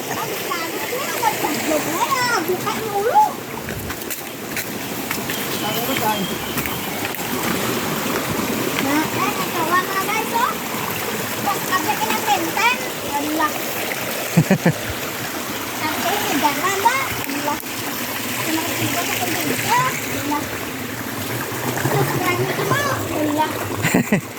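A mountain stream splashes and rushes steadily over rocks in rural countryside, a continuous close wash of water with people talking over it throughout.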